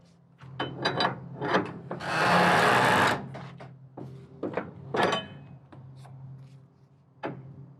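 Winch bar cranked in rough, rasping strokes to tighten a securement strap on stacked trailers, with several gritty ratcheting bursts and one long grinding pull, close and loud, separated by short pauses.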